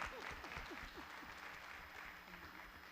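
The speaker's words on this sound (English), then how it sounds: "We have to give her a round of applause for that." Audience applause at a public talk event, steady clapping from a crowd filling the whole moment at moderate level, with some voice energy mixed in underneath.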